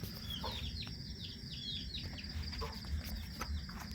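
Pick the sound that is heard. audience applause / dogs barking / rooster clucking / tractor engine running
rooster clucking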